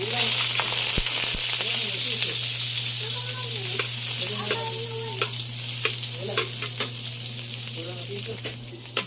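Butter sizzles and melts in a pan already holding a little oil, ahead of tuna pasta, with a loud steady fry, a low hum, and occasional sharp clicks of a utensil near the end.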